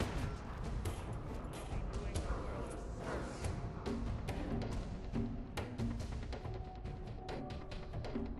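Grenades go off in a Fallout 4 street firefight, a dense run of heavy booms and crashing blasts mixed with gunfire that keeps the whole stretch loud and busy without a break.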